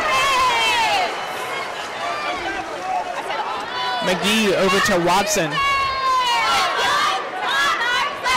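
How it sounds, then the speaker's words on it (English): A basketball crowd at the Ted Constant Center swells and roars steadily through an ODU game against USM, loud and continuous, while a commentator talks over it and voices shout in the stands. "Crowd is starting to get into it here at the TED."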